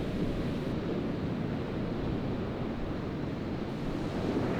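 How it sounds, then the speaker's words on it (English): Ocean surf breaks steadily on a shoreline where grey seals live, a dense continuous wash of waves with wind, heard alone and at moderate distance. "she could get past those breaking waves on the shoreline"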